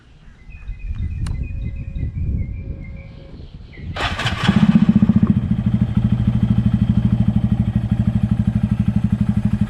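A Honda Grom motorcycle with an ECU tune cranks over after some ambient birdsong and rustling, catches with a sharp starter whirr and settles into a loud, close, steady idle with a rapid even pulse.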